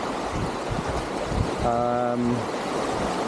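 Waves wash against the shore of lower Georgian Bay in a steady, broadband rush under a brisk headwind, with a brief tonal hum rising partway through.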